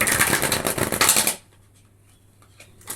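Tarot cards shuffled up close in a quick, dense riffle of papery flicks for about a second and a half, then stopping abruptly into near silence with a faint hum.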